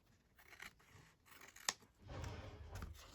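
Scissors trim sticky, glue-coated paper layers of a staggered handmade journal in a quiet room, a few soft snips and one sharp close cut, followed by rustling paper handling.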